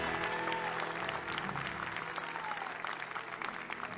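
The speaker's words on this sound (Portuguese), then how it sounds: "queria uma salva de palmas bem bacana" Audience applause at a Brazilian viola music show, a dense, steady wash of clapping that stays loud and unbroken throughout, with no voices over it.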